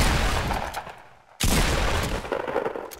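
A pump-action shotgun fires one loud, sharp blast partway through, cutting in after a brief lull and ringing out over a steady wash of noise.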